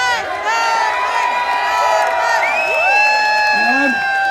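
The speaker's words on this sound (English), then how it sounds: "Cheer for Norman." A crowd at an outdoor freedom rally in Ottawa cheers and whoops, with many overlapping shouting voices and rising and falling yells forming a loud, sustained wall of excitement.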